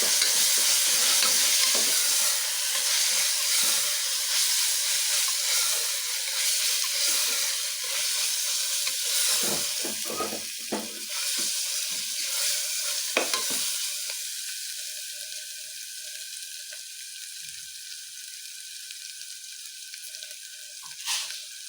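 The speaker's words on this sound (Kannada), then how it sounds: "ನೋಡಿ ಈ ಥರ ಎಲ್ಲ ನೀಟಾಗಿ ಕೆಲ ಕೆಂಪಗೆ ಫ್ರೈ ಆಗಬೇಕು" Ginger garlic paste masala fries in a pan, giving a loud, hissing sizzle broken by scraping stirs that gradually calms to a quieter, thinner crackle. The frying is close and runs uninterrupted with no one speaking.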